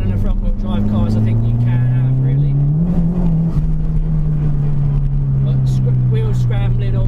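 Front-wheel-drive Ford Fiesta ST tuned to over 300 bhp, driven hard with a loud, sustained engine drone that rises and holds steady at high revs, close and constant throughout.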